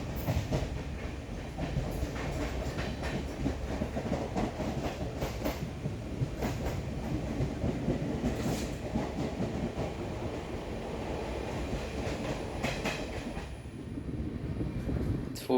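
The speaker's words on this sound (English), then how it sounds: "the Ernaad Express crossing us just before Kasaragod" An Indian passenger train runs steadily on rails near Kasaragod, a loud continuous rumble with rhythmic clickety-clack of wheels over joints, heard from aboard an unreserved second-class coach as the Ernad Express passes.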